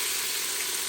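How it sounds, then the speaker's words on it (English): Goat meat stir-frying in a hot pan for a spicy okra and meat curry, a steady, close, continuous sizzle and hiss with no speech. "So now I'm stir frying the goat meat"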